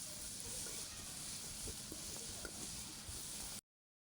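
Semolina kalojam sweets fry gently in a pan of warm oil, giving a steady, soft hiss and sizzle with a few small pops for a few seconds before it cuts to silence.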